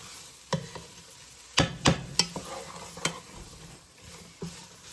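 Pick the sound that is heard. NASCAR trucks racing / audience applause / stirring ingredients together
stirring ingredients together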